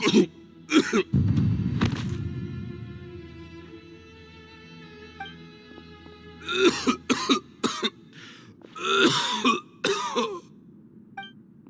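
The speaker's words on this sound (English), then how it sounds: "Why is he coughing so much?" A Genshin Impact character coughs in harsh, repeated fits with throat clearing, heavy opening bursts, then a quiet pause over soft background music before more ragged coughing later.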